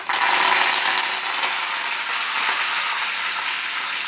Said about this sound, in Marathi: त्यामध्ये आता आपण कढीपत्ता टाकू।